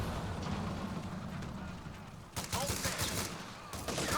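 Gunfire in the World War II strategy game Company of Heroes 3, where a machine gun nest fires during a battle with tanks. Bursts of rapid shots crackle over a continuous rumble of battle, growing sharper and denser in the second half.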